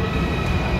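A metro train at a station in Seoul fills the moment with a loud, steady mechanical rumble and hiss, close and continuous.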